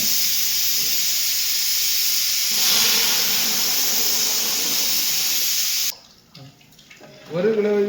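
Water pouring with a steady rushing hiss into a cooking pan while fruit kesari is being made. The pour runs for about six seconds, then cuts off to a quieter stretch with a brief voice at the end.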